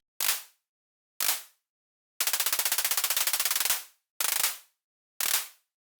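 A synthesized drum made in Microtonic with a multiple-attack envelope: sharp noisy hits with quick decays, then a long rapid rattling burst of stacked attacks like a drum roll, followed by two more single hits, dry and alone.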